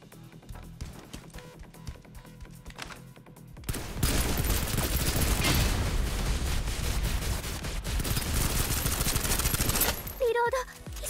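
Rapid automatic gunfire in the video game Snowbreak bursts in after a few quiet seconds and rattles continuously, loud and dense, before cutting off near the end, with a character's voice briefly over it.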